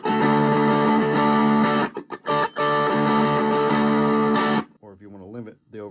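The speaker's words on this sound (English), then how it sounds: "So you can have it full stop, almost like a distortion tone" A Bootlegger Guitar Blues 20 combo, a Dumble Overdrive Special clone, is pushed to full overdrive, loud sustained distorted electric guitar chords ringing with brief stops, then a few quieter bent notes at the end.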